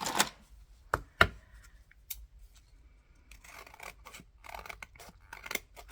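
Scissors trimming paper for a handmade glue book, a few sharp snips early on, then quieter scratchy rustling and cutting sounds nearby.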